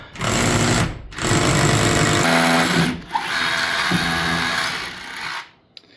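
A power drill bores into limestone to set half-inch Titan screws, loud grinding bursts starting and stopping in three long runs separated by short pauses, close by with no talking.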